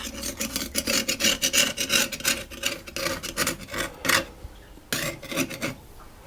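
A knife or pastry edge scrapes and rasps repeatedly against the rim of a tart tin, trimming away excess fruit-tart pastry in quick, close strokes with a brief pause near the end.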